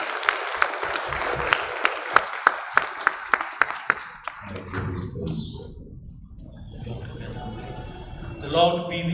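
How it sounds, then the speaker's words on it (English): Sharp, evenly spaced claps ring out first at a Catholic education leaders' gathering, a rhythmic burst of hands that fades after a few seconds into a low murmur of voices and movement in the hall. "Give them a clap."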